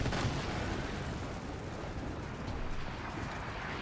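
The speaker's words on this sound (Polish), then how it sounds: "ta bombarda na ich szczycie wieży robi robotę" Bombard cannon fire from the top of a tower in the pirate naval game Skull and Bones, heard as dense, rumbling booms and gunfire blended into a continuous battle roar without speech.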